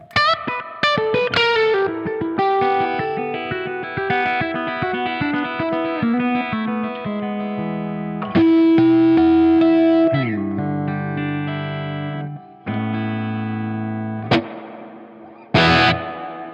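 Electric guitar through a Dumble-style amplifier with reverb, notes and chords ringing out with a long, lush reverb tail that darkens as it decays, loud and alone with no talking.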